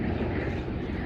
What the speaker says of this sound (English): there is a helicopter going around here